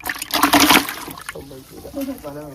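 A brief burst of splashing water as a large monster fish is released by hand into fresh water, close and fairly loud, followed by someone talking.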